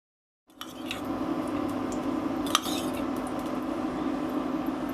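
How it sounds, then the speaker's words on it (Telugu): A frying pan set down on a kitchen stove for making gongura paste, one brief metallic clink over a steady hum of background kitchen noise. "ఈ గోంగూర పేస్ట్ కోసం తరువాత స్టవ్ మీద ఒక ఫ్రైయింగ్ ప్యాన్ పెట్టుకోవాలి"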